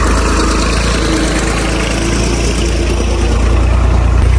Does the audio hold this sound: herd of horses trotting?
no